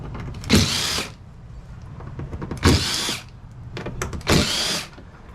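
Power drill backing four Phillips head stainless steel screws out of the cover on a Hobie PA12 kayak, three loud separate bursts of whirring, each about half a second long, with quiet handling between them.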